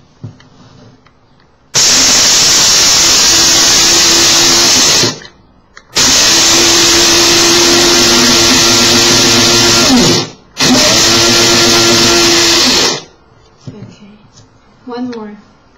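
A coffee grinder grinding spices roars loudly in three long bursts of about three to four seconds each, with short stops between them and quiet handling noise after the last.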